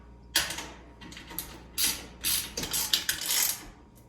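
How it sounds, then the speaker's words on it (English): Bolts being tightened with a ratchet wrench, quiet bursts of rapid clicking and ratcheting in short repeated strokes, close and alone. "Tighten those up."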